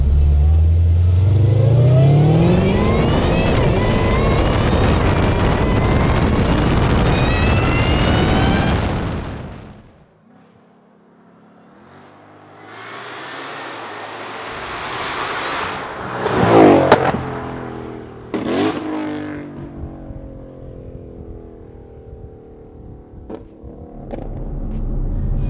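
A 2020 Ford Shelby GT500 with a ported supercharger revs loudly with rising whine for about ten seconds and then cuts off. Quieter revving follows, with sharp pops and crackles from the exhaust.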